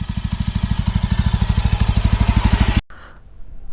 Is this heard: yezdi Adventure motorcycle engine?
yes